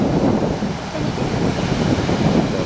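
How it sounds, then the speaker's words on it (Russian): Strong wind at a lakeside in Crimea roars steadily and buffets the microphone, a dense, unbroken rush of air throughout. "Ветер прям крышки сдувает."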